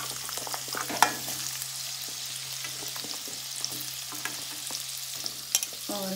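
Radish, carrot, green chili and ginger go into hot oil for a quick carrot pickle, giving a steady soft sizzle with occasional spoon clinks and stirring scrapes, close and fairly quiet.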